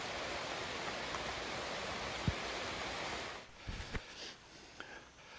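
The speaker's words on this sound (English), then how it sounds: "We're trapped under our tree in the rain." Rain falling outdoors in Panama beneath a tree, a steady broadband hiss that is loud for the first three seconds, then thins to a quieter patter with a few heavier nearby drips and taps.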